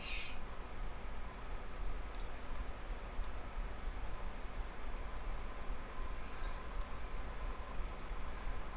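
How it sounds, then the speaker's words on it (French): Sparse, crisp computer mouse clicks while a ground texture is loaded in texture-editing software, a few isolated clicks spaced seconds apart over a quiet background hiss, with no talking. "il faut que je clique dessus aussi."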